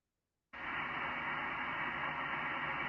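Steady broadband hiss from a ham radio receiver tuned for moonbounce (EME) signals, beginning abruptly after half a second of silence and holding at an even, fairly loud level with faint tonal traces buried in the noise.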